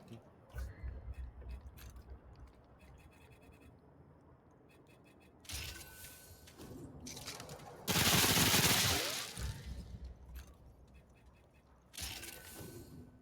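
Machine pistol fire in the video game Remnant: From the Ashes, several loud automatic bursts, the strongest a sustained rattle near the middle, over steady game background noise.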